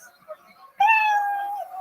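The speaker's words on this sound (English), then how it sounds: "at 60 seconds, you hear the sound of a kitty" A single drawn-out kitty meow sound effect marks time running out, a clear rising-then-falling cry lasting nearly a second, following faint background talk.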